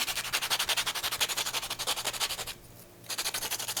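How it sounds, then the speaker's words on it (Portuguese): Coarse 80-grit sandpaper is rubbed back and forth on miriti palm wood in quick, rhythmic scratchy strokes, close up, with a brief pause before the sanding resumes. "Aqui ele já pode ser lixado. A gente pega uma lixa 80 para desgastar."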